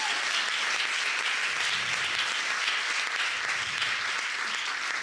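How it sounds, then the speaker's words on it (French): A church congregation breaks into applause, a dense, sustained clapping from many hands that keeps a steady level throughout, with no speech over it. "acclamant pour la parole du Seigneur"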